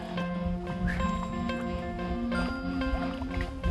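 A kayak being paddled on a calm Minnesota lake on a fine day, with steady water sloshing and gurgling from the strokes close by, continuous throughout alongside faint background tones.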